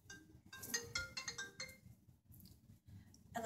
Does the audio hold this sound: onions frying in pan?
no